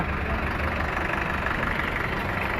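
A heavy diesel tractor engine, a 1994 model on MRF tyres, idles steadily nearby at a tractor market in Moga, a constant low chugging rumble with no other sounds.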